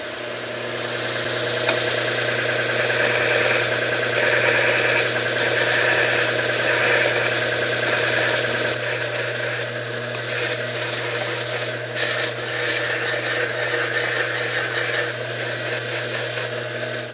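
A Palmgren 6-inch belt and 12-inch disc sander runs steadily, its motor giving a constant loud humming whir with a low drone underneath and the hiss of the belt, unbroken for the whole stretch.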